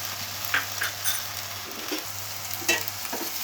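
Chopped spinach, green onion and green garlic are stirred in a kadhai for Sindhi-style palak saag, giving a steady sizzle with soft scraping strokes of the spoon every second or so, and nobody speaking.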